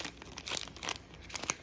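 Seed blend package being cut open in a kitchen, with bursts of crinkling plastic and tearing across a short moment, close and fairly quiet.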